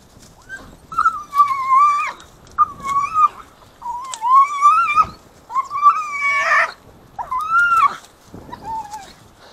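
Hunting dogs on a forest hunt give high, drawn-out whining yelps in repeated bursts after treeing a squirrel, fairly loud and close, each cry rising and wavering before breaking off.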